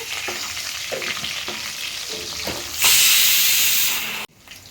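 Dried red chillies and garlic tempering in hot oil give a loud, steady sizzle that swells into a fierce hiss partway through, then drops off abruptly near the end.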